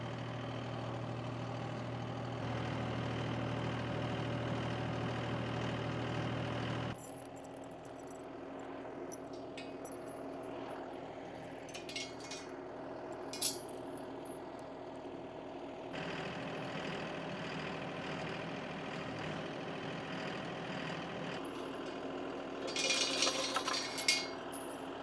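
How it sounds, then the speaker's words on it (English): A tractor engine runs at a steady, low idle-like chug, loud and continuous throughout, shifting slightly in tone partway through, with faint clanks over it near the end. "we're gonna get on the tractor and try to remove these four posts right here"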